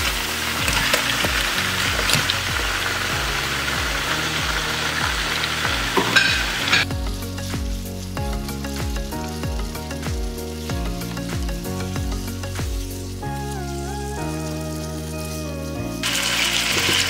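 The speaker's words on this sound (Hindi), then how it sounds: "खाली चिकन और जिंजर गार्लिक पेस्ट को हम 6-7 मिनट तक फ्राई करेंगे" Chicken pieces and ginger garlic paste fry for a chicken karahi, a bright crackling sizzle up close that continues more faintly once melodic background music enters partway through.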